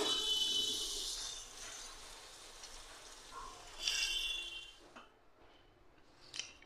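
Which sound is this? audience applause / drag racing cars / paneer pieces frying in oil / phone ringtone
paneer pieces frying in oil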